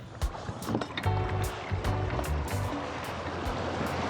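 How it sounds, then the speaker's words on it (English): A small Torqeedo electric outboard motor on an inflatable catamaran dinghy hums steadily at full throttle over lapping water, with low engine tones and periodic knocks from the hull, fairly close and continuous. "we're wide open now. You can hear the engine."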